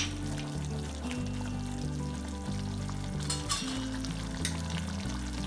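Tomato chutney frying in a pan with turmeric powder stirred in, a steady close sizzle and bubbling with soft scraping stir sounds and a few brighter spatters, no voices.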